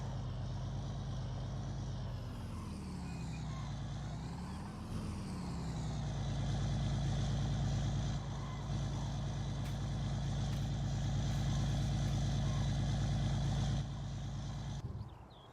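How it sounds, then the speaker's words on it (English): A V8 truck engine in Farming Simulator 19 rises and falls in pitch as it revs, then settles into a steady, loud droning run for most of the stretch before cutting off near the end, with no talking. "Turn the engine off while it's ragging like that V8 engine."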